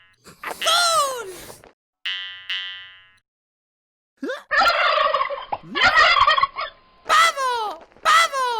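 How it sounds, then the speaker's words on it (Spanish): A turkey gobbling in rapid warbling bursts, loud and close, repeated several times between pauses, alongside a springy boing effect and a voice speaking. "¡Pavo! ¡Pavo!"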